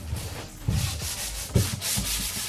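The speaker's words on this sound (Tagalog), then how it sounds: "Pasa-pasa liha lang yung gamitin natin kasi medyo makinis naman to." Sandpaper rubs by hand across painted wood in a semi duco finish job, a close, rough scratching in quick back-and-forth strokes with a few heavier passes.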